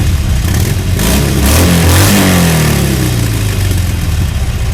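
Loud roar of dozens of motorcycle exhausts at a rally of motorcyclists on assorted bikes, revving and accelerating close by with rising engine tones, a dense continuous rumble and no talk.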